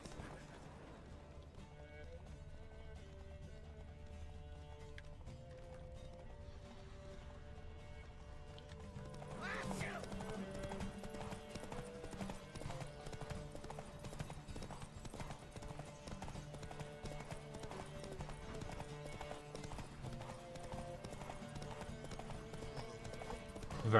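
In The Witcher 3, the horse Roach gallops in a race with steady rhythmic hoofbeats that grow louder and busier midway as other horses join in, a whinny rising once over the drumming.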